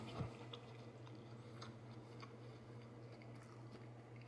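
Close, soft chewing of a mouthful of cranberry walnut chicken salad, faint and steady for a few seconds over a low electrical hum, with no talking.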